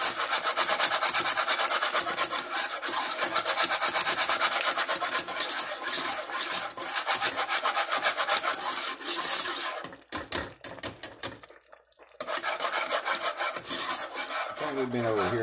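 German chocolate icing simmering and being stirred in a pot on the stove, a steady close scraping and rubbing texture that runs nearly throughout, with a short break near the end before it resumes.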